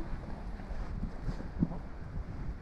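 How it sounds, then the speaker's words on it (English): Strong wind gusts across an exposed coastal sand dune, a dense, low roar buffeting the microphone steadily throughout with a couple of brief louder thumps. "So windy."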